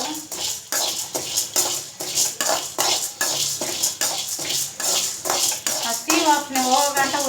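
Spatula scraping and rattling through dry chutney powder ingredients roasting in a pan, in quick repeated strokes throughout, with a voice talking over the stirring toward the end.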